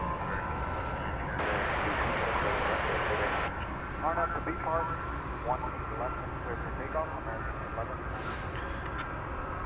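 A wide-body airliner roars at DFW Airport at night, a broad jet wash that swells briefly and then fades into distant rumble while people talk over it.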